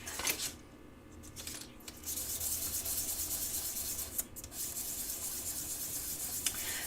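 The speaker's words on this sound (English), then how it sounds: "I'm just sanding these edges to make sure that they" Close, steady rubbing and scraping of sanding against an edge, continuous strokes with a couple of short pauses and light metallic clicks.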